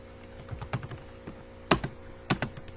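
Code is typed on a computer keyboard in short, irregular bursts of close keystrokes, with two louder clusters of clacks standing out among softer taps. No one speaks.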